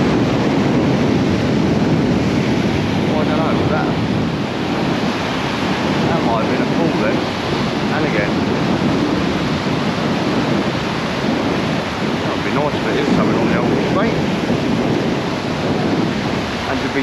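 Heavy surf on Southbourne beach in Dorset, a constant loud roar of breaking waves and wind that fills the whole stretch without pause.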